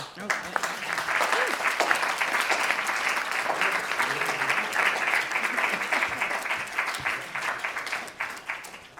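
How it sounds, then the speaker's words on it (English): An audience at a school board candidate forum applauds in a sustained, even roar of clapping lasting nearly nine seconds, loud and close, tapering slightly near the end. "Thank you, and now you can applaud."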